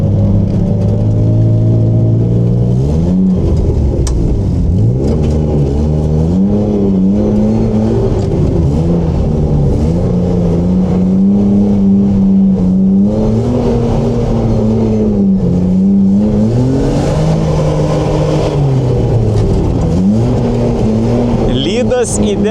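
Car engine revving hard and varying in pitch while drifting on a frozen lake, loud and continuous throughout, with someone talking over it.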